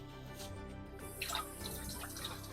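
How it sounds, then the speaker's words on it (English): Water dripping and splashing softly as it is added to poha flakes while they are being mixed, a faint, close liquid patter lasting a couple of seconds. "add a little bit of dash of water so that it becomes a little bit moist"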